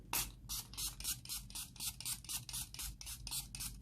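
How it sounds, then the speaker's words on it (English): A makeup setting spray with SPF 30 sunscreen is pumped in a quick run of about eleven short, hissing bursts, evenly spaced, close and fairly quiet, with nobody speaking. "So I'm just going to give it a nice spray."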